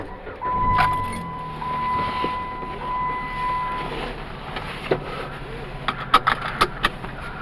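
A Jeep Patriot with a faulty heater that blows cold air runs on a test drive, its steady engine and road noise rumbling inside the cabin, with a brief chime early on and a few clicks and knocks near the end.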